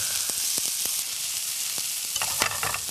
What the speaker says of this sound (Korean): 여기다 이제 양파 양파를 좀 넣어주시고요. 좋습니다. 자 이제 좀 볶아주고